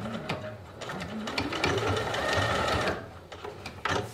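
A sewing machine stitches a ruffled skirt seam. The motor whirs at a steady pace for several seconds, then slows with a few quick clicks of the needle. It sounds close and clear, with no talking.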